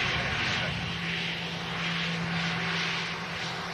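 An EasyJet airliner passes overhead at a plane-spotting location, a steady, broad engine roar with a low tonal hum that swells slightly and holds for several seconds, with a voice talking faintly underneath.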